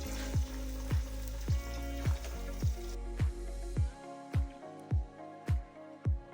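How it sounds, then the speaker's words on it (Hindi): Steady sizzling of garlic ginger paste frying in a pan, with regular spoon scrapes and stirring knocks about twice a second. No voices. "इसको तब तक हम फ्राई करेंगे लहसुन अदरक को"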